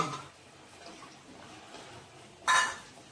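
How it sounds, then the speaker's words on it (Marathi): Metal pot used for dal being rinsed in a home kitchen: faint scraping and water movement, then one sharp, bright clank of the vessel about midway, with no talking. "हे डाळीचं भांडं धुवून घ्यायचं"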